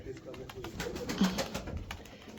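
A pigeon coos softly nearby, a low throaty murmur blending with light rustling and faint background noise.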